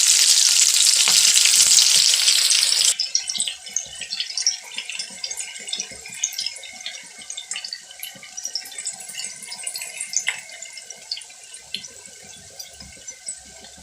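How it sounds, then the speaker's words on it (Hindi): Green chillies frying in a pan of oil: a loud burst of hissing splatter for the first few seconds, then settling into a steady, crackling sizzle with scattered pops. "1 से 2 मिनट तक इसको अच्छी तरह फ्राई कर लेंगे।"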